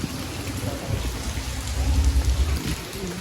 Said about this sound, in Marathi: आप बारिश देख सकते हो